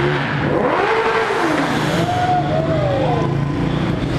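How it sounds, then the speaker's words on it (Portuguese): A motorcycle engine revs up and down at a fuel station, loud and close, its pitch rising and sliding in repeated swells over a steady idle rumble. "Olha o Dona Neves aí acelerando"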